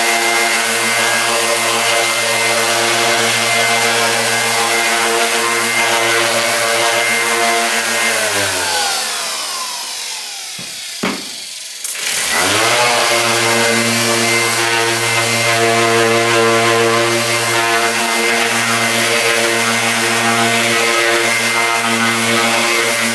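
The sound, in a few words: orbital sander sanding a solid walnut Telecaster guitar body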